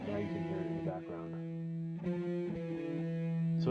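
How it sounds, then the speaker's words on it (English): Guitar or synth tones run through a delay effect, each phrase followed by repeating echoes that trail beneath the dry sound, steady and fairly loud throughout. "So again, this is providing us like an echo effect."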